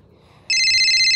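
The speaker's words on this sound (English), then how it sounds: "Oh, I'm getting a phone call." A phone ringtone for an incoming call starts abruptly partway through and rings steadily and loudly to the end, a bright electronic tone over faint room noise.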